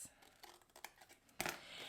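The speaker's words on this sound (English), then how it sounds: "Go ahead and just cut it with my scissors" Scissors cut through card paper in a handful of quick, crisp snips, faint and close, ending in a louder closing cut.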